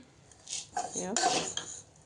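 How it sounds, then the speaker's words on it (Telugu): A spoon scrapes and clinks against a pan a few times in quick succession, close up, as dry lentils roast over a medium flame. "దీన్ని కొంచెం మంట మీడియం ఫ్లేమ్లో పెట్టి పప్పు వేయించుకుందాం"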